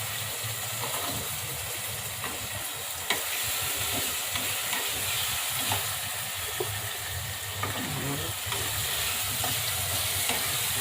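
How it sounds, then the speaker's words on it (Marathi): Carrots and green beans fry in hot oil for a vegetable pulao, giving a steady, close sizzle with soft stirring scrapes and a few light clinks throughout, no voices over it. "गाजर, बीन्स याला जास्त वेळ लागतो ना, ते टाकून घ्यायचं तेलामध्ये चांगले."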